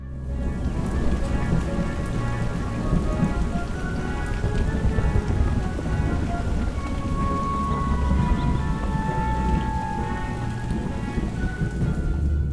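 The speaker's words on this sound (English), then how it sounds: "It's raining down on him. It's thunder." Steady rain pours down on a surface while low thunder rumbles through, a continuous, enveloping storm with no speech.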